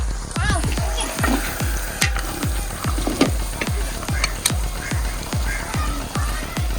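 Wayanad-style beef leg curry stirred in a pot, with a steady run of close, sharp scraping knocks from the spoon, roughly two per second, over a low bubbling sizzle.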